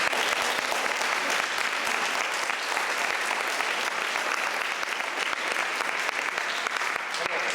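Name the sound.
congregation applauding in church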